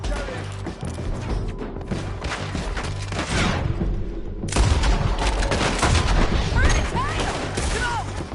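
A loud, dense shootout against rednecks, with rapid overlapping gunshots and booming bursts that crowd the whole stretch and swell to a heavier barrage midway.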